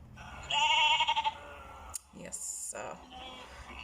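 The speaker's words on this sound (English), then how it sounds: "Sheep. A lamb." A recorded sheep bleats loudly with a wavering, nasal cry in a sound-guessing game, followed by softer bleats and clicks.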